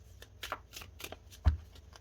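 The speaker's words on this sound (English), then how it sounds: "do a real shuffle." Brisk riffling and slapping of a deck of tarot cards being shuffled, a few quick bursts close by with no voices.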